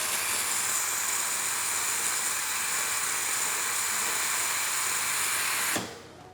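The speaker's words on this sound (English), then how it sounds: "And let's do the steam, let's check out the pressure." The steam wand of a Sanremo Cube espresso machine hisses loudly and steadily at close range, a sharp continuous jet of steam that stops abruptly near the end.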